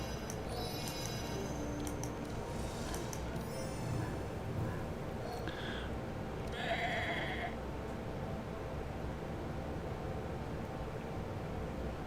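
Sheep bleat a few times in the game Across the Obelisk. The short calls rise over a constant dense backdrop of game sound and music, with no voices.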